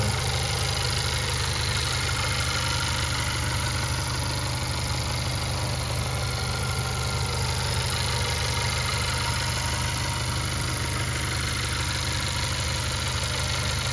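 A 2017 Honda Accord engine idles steadily, heard up close at the open engine bay, producing a continuous even hum with a faint mechanical ticking and no change in pitch throughout, with no talking.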